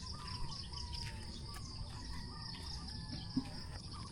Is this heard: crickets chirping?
yes